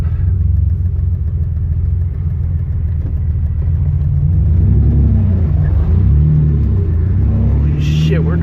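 A BMW E34 sedan being driven after repairs, its engine a low steady rumble that swells as it revs, heard from inside the car with faint voices underneath.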